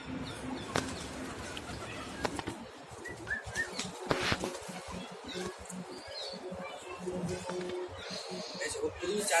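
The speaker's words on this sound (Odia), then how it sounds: "ଉପରୁ 4ଟା ପାରା ପଳେଇଲେ।" Pigeons burst off a loft roof in a flurry of flapping wings, a brief rush of wingbeats with faint cooing, while someone talks over it.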